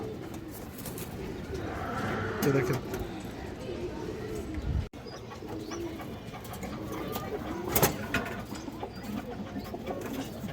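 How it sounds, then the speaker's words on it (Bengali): Giribaz pigeons coo softly at a bird market amid crowd noise, someone speaks briefly, and a sharp clack sounds near the end. "এই কবুতরটা"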